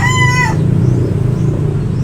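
The loud, close tail end of a gamecock rooster's crow cuts off after about half a second, leaving a low rumbling background.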